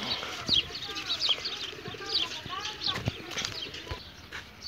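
Pigeons in a loft coo and flutter close by, soft repeated calls and wingbeats mixed with scattered bird chirps, while someone talks over them.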